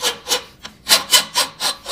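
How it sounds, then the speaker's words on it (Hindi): Vintage BB gun parts clamped in a vise being smoothed by hand, with a steady back-and-forth rasping stroke repeated about seven times, close and loud, without any voices. "तो इसे वापस वाइज में लगाया और फिर से काम पर लग गया, बस कुछ हिस्सों को स्मूथ करने के लिए।"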